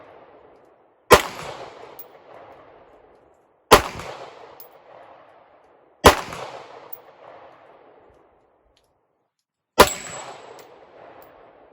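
Four single shots from a CZ-75B pistol ring out one at a time outdoors, each a sharp loud crack with a ringing decay, spaced a few seconds apart with quiet between.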